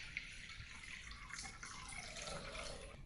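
Water poured from above into a large bowl, a steady splashing stream that runs continuously and fairly quietly throughout, with no voices.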